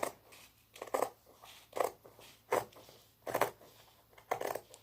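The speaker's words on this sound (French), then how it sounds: "et vous venez couper le long." Scissors cutting along folded fabric for a washable sanitary pad, a series of close, crisp snips in an uneven rhythm, each cut a short rasping burst, with no talking.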